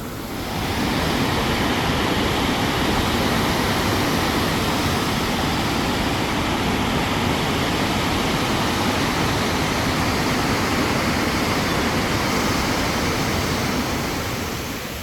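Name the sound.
rushing turbulent water jet and waves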